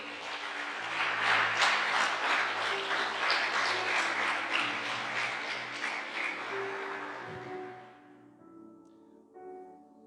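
A church congregation claps in unison, rhythmic and full for several seconds under a sustained musical backdrop, then fades away to near quiet with a few stray sounds.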